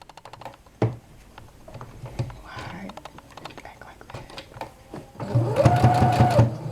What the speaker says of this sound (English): So we're gonna take both of these pieces over to the sewing machine.